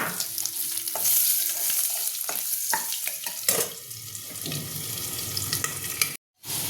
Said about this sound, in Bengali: এবার আমি আলুগুলো ভালো করে ভেজে নেব